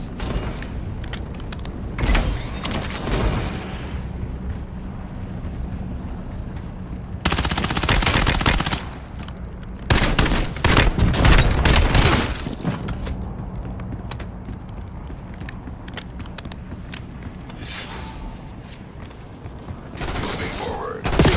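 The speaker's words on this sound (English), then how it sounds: "Incoming shots!" Video game gunfire in bursts: rapid automatic fusillades and booming shots in a busy battle mix, with loud sustained volleys, quieter stretches, and voices calling out in between.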